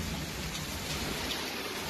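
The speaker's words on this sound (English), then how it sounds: "It's raining early in the morning." Steady rain falling early in the morning, a continuous dense hiss of drops on surfaces with a low rumbling undertone, evenly loud throughout with no voices.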